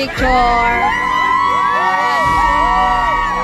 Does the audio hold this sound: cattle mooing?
no